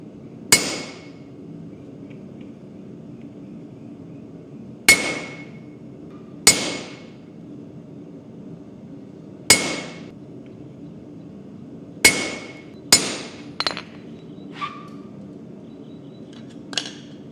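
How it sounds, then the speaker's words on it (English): A hammer strikes a center punch into steel being prepared for forging: about eight sharp, ringing metallic blows at irregular intervals, close and loud, with the last few coming quicker and lighter. "we're gonna center punch this"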